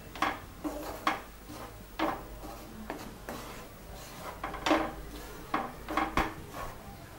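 Ragi flour being stirred and roasted in a pan, with a spoon scraping and tapping against the metal in irregular strokes, close and moderately quiet.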